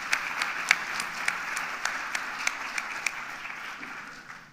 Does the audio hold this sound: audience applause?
yes